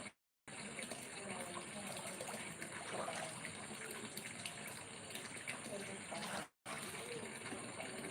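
Warm water runs steadily from a tap, a continuous close gushing hiss broken by two brief silent cuts.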